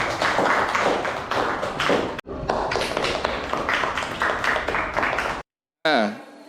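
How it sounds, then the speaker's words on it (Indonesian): A class applauds a student in a school setting, with dense, continuous clapping and tapping that fills the room, then cuts off abruptly near the end before a voice begins. "Tepuk tangan untuk Ireng."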